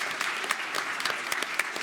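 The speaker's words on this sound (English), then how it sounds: "Please join me in a round of applause for our panelists." Audience applause for panelists after a medical conference debate on unexplained infertility, a moderate, evenly spread patter of many hands clapping, fairly close and steady.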